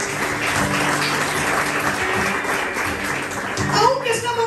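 A church congregation applauds, a dense patter of clapping that fills the room continuously, with voices and a short sung or spoken phrase rising over the clapping near the end.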